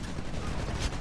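Gunfire from a weapon in the Titanfall video game, a dense, continuous burst of loud shots filling the whole second, with a sharper crack near the end.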